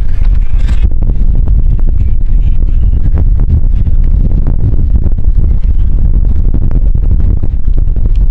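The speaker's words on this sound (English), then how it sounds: "Super windy on this side, on the other side of the mountain." Strong gusty wind on Koko Head mountain roars and buffets the microphone nonstop, a loud low rumble with sharp bursts, no voices.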